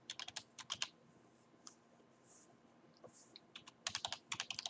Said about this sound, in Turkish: Yazıyorum e-postamı.